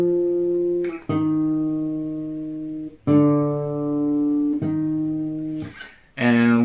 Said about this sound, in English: So the first part of the main riff is a bass line.